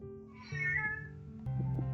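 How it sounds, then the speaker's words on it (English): A cat meows close by, a drawn-out cry followed by a shorter one, with steady humming noise underneath. "And my cat meowing"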